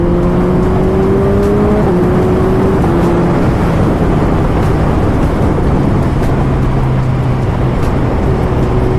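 A Yamaha R3 and a Kawasaki ZX-10R motorcycle riding after rain, a loud, continuous engine drone with slowly shifting pitch as the riders hold and change speed, close and steady throughout with no talking.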